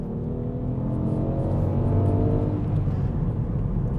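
A Ford Fiesta ST Line X engine revs with a close, full-bodied rumble that swells and eases over a few seconds, heard alone without talk.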